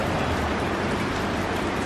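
Heavy typhoon rain pouring down during flooding around a house, a dense, continuous hiss at a steady loud level with no voices.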